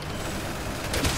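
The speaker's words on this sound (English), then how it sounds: "explosions" Explosions and gunfire rumble in the Resident Evil 6 video game during the Chris and Piers chapter, a dense, continuous low roar with a brief louder boom near the end.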